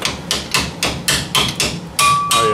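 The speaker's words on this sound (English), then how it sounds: "Start hammering." Repeated hammer blows knocking brake pads into the calipers of a 2WD Ford Ranger during a front brake job, about nine sharp metallic strikes in a steady rhythm, close and loud, the last few ringing with a metallic tone.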